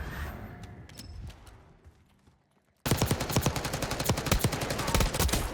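Rapid automatic gunfire in the shooter game Call of Duty Black Ops 6, a fast burst of loud close shots erupting after a quieter stretch of distant popping and a brief near-silence.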